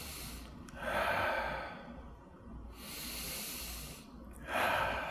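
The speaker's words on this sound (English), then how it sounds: "Let's do 2 breaths here." Children in a chair yoga session take two slow, deep breaths, each a long airy inhale and exhale heard close, with a brief pause between them.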